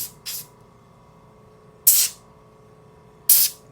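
Air compressor feeding an airbrush, three short sharp hissing spray bursts at irregular intervals over a faint steady compressor hum, close by.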